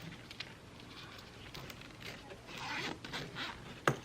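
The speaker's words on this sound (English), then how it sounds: "They've got a nice fat zipper." A nice fat zipper on a mesh pen pouch being pulled, a faint, close raspy zip in several short strokes with soft rustling between, ending in a sharper click.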